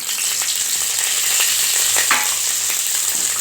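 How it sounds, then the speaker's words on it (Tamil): Chana dal fries in hot oil with dried red chillies, cumin, tamarind and salt for a sundakkai thuvaiyal: a steady, close sizzle with light stirring scrapes throughout. "இப்போ வரமிளகா சீரகம் புளி உப்பு எல்லாம் போட்டுக்கலாம்"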